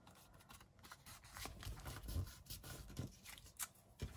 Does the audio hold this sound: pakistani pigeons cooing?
no